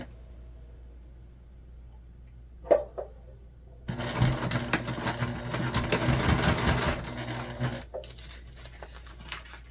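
A sewing machine top-stitches a mini backpack, running in a loud continuous burst of about four seconds after a few faint clicks and handling noises, then stopping into near quiet.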